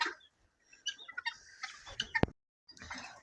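Soft clucking from chickens in a village vegetable garden, in short, scattered bursts, with one sharp louder call near the middle, then quiet before more clucks.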